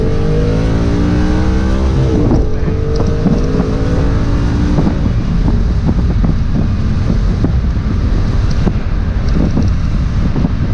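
A 2011 Audi R8 Spyder pulls away slowly, then accelerates hard with a loud, rising engine roar. Wind buffets the microphone throughout, and a few sharp bursts stand out over the sustained drive noise.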